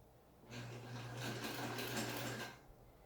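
Close up, a sewing machine runs a half-inch seam through two pieces of fabric held together, giving one continuous whirring burst of about two seconds that starts and stops cleanly against a quiet background.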